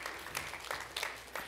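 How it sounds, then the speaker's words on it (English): A church congregation at an Easter service gives a brief round of applause; soft, diffuse clapping at a fairly low level, heard from a distance in a reverberant hall. "Let's give him a kind of applause."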